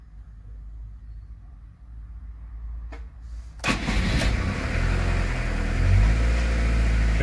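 A camper van's diesel engine cranks over after preheating and catches, settling into a loud, steady idle after a quiet, low-humming start.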